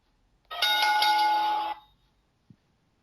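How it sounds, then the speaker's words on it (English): A bright electronic bell-like chime sounds once for about a second, signalling a turn at the mic on a wrestling podcast. It is loud and close against near silence, followed by a small soft knock. "Evan, you may pick up the mic at the sound of the bell."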